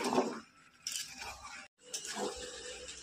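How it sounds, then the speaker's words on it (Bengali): Chicken with potatoes and onions stirred and fried in a pan, close scraping and clinking of a spatula against metal with short bursts of sizzling, quiet and broken by a brief gap. "এখন মাংসটাকে ভালো করে কষিয়ে নেব।"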